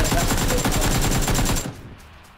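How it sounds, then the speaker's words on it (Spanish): Rapid automatic gunfire rattles in a video game shooter, a dense, loud burst of evenly spaced shots that stops abruptly after about a second and a half, leaving a fading tail. "Sí, sí, están disparando."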